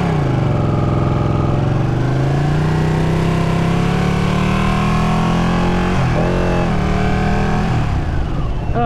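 A Ducati 959 Panigale motorcycle on a test ride, its engine loud and continuous close up, pitch climbing steadily under acceleration, dipping briefly at a gear change, then rising again.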